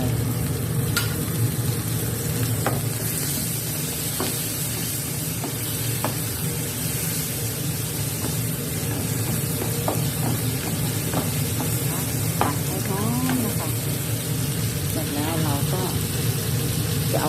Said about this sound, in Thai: ผัดให้หอมนะคะ